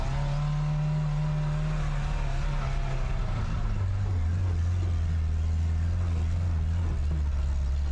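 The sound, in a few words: Lamborghini sports car driving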